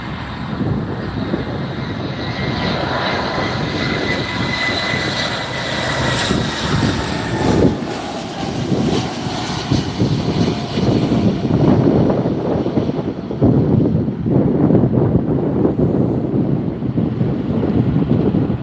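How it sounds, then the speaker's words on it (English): A Delta Airlines Airbus A320 arriving at LAX from Austin: a loud, sustained jet engine roar building and rumbling close by, mixed with heavy wind buffeting on the microphone. "Next arrival from Austin is Delta Airlines 1890, an Airbus 320."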